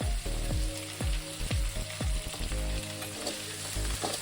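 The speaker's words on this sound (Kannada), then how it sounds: "ಟೊಮ್ಯಾಟೊ ಸಾಫ್ಟ್ ಆಗೋವರೆಗೂ ಫ್ರೈ ಮಾಡ್ಕೋಬೇಕು." Tomatoes frying in a pan with salt, a steady sizzle broken by repeated scraping stirs about every half second, close and fairly loud, no voices.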